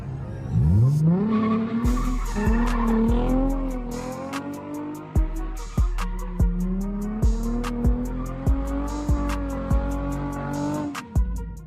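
A car spins donuts outside, its engine revving and climbing in pitch while the tires skid and squeal loudly, with rhythmic sharp bursts repeating through the spin and no speech.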